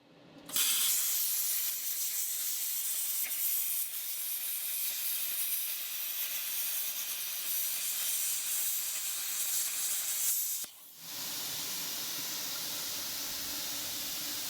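A Harbor Freight plasma cutter slices steel light brackets in one long, loud, steady hiss, broken by a brief pause near the end before the cut resumes.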